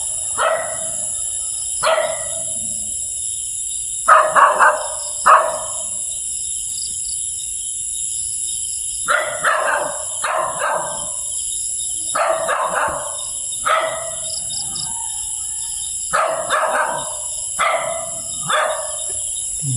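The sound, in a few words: dogs barking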